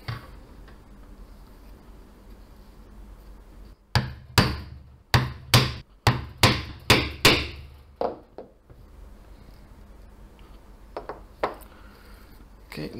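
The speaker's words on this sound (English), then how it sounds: "I'm going to chisel one side." A mallet strikes a chisel into leather to punch stitching holes, about nine sharp, evenly spaced knocks in a quick run, followed by a few scattered lighter taps against a quiet workshop background.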